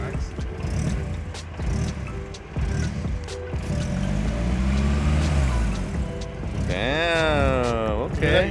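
A Nissan 240SX engine with swapped cams idles and then revs, its tone sweeping up and down in a rising, falling pull near the end, with people talking over the engine at close range.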